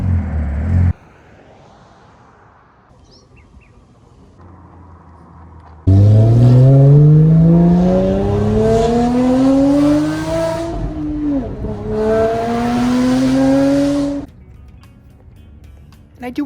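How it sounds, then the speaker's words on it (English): A Porsche GT4 with the Fabspeed GT450 race performance package, running on E85, revs hard on dyno rollers. After a quiet idle the engine climbs loudly through a long rising pull, dips briefly, pulls again, then falls back to idle. "We really want to throw this thing on the rollers because we want to get an exact dyno sheet printout of what the rear wheel horsepower is"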